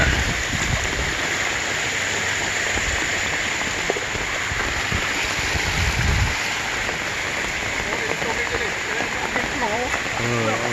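Flood water overflowing near a bridge in San Miguel, a continuous heavy rush and churn of water, loud and steady, with scattered voices and other noises over it.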